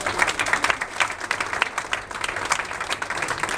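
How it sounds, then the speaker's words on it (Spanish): A church congregation gives a strong round of applause for Lucas, brisk, fairly close clapping that carries steadily from start to finish. "Un aplauso fuerte para Lucas."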